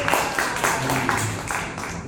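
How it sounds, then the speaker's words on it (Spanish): A classroom gives a student a short burst of applause, a few rhythmic rounds of clapping from a small group, fairly close and brief. "Un aplauso para Mario"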